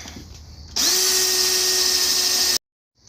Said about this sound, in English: After you have all your holes drilled